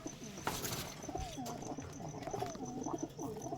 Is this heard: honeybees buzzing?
no